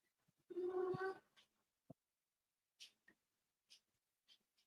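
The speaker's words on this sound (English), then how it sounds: "Shut up, cat." A house cat lets out one drawn-out, complaining meow close by, followed by a few faint clicks and soft scuffs in an otherwise quiet room.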